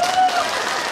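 Audience applause at a Vietnamese pagoda performance, a brief, dense wash of clapping with a faint held tone over it, steady and fairly close.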